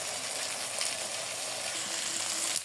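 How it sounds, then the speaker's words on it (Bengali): Rohu fish fillets frying in mustard oil over medium heat give off a steady, dense hiss and crackle that runs evenly and close for the whole stretch, with no voices. "আমি তো মাছটা সরষের তেলে ভাজতেছি।"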